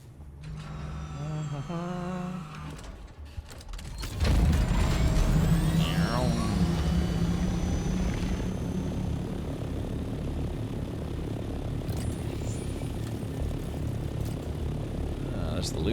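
An aircraft in the Dune: Awakening video game spools up and takes off, a loud sustained engine roar with rising whine that swells suddenly and holds steady, after a few seconds of quieter mechanical sounds.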